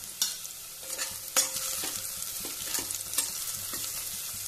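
Green chillies added to frying onions for a Konkani bhindi curry, a close, steady sizzle broken by several sharp scraping stirs of a spoon in the pan, with no voices.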